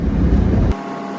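A Triumph Stag cruising at 50 to 60 mph gives a loud, steady low roar of engine and road noise with wind rush, heard from inside the car, which cuts off abruptly into quieter hiss.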